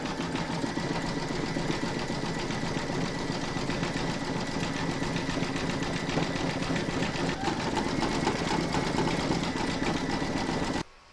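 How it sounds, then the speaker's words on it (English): A sewing machine runs continuously at a close, steady pace, zigzag-stitching around raw fabric edges on a safari runner, with a dense mechanical whir that holds for about eleven seconds before stopping abruptly. "You can now pop that into your machine and stitch round number 13, and that's going to zigzag the raw edges."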